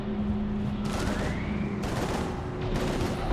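Sustained gunfire in a Mass Effect 3 combat scene, a dense continuous fusillade of rapid shots layered over a low droning hum, steady and fairly loud throughout with no talk.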